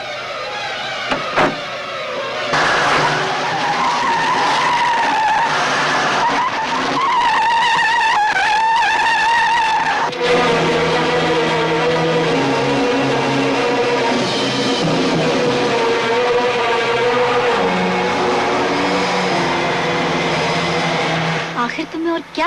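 A car revs and pulls away with squealing, skidding tires in a Bollywood film scene, loud and sustained with a tonal whine, mixed under dialogue and background score.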